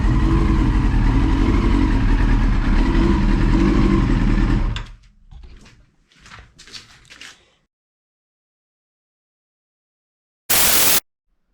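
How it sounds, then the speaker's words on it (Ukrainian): Yamaha R6 sport motorcycle engine running after carburetor synchronization, a steady close idle that cuts off abruptly, followed by a few faint rustles and a short loud burst near the end. "працює мотоцикл, е, обороти набирає чітко"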